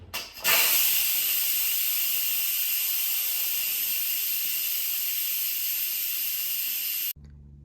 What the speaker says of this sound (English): Now the Instant Pot is done cooking, so let's quick release the steam.